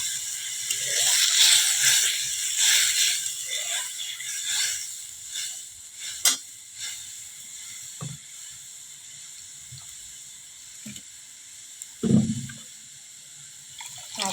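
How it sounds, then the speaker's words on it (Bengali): Water poured into a pan of frying mustard seeds for a katla fish curry gives a steady sizzling hiss, with a few sharp clinks and knocks partway through. "একটু জল দিয়ে দেবো।"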